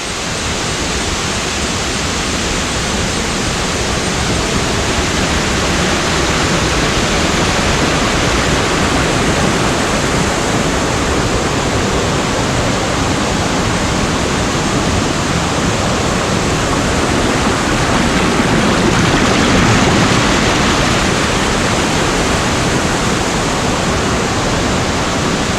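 Madaseri waterfall roars as a dense, steady wash of rushing water, loud and unbroken throughout, with no voices over it.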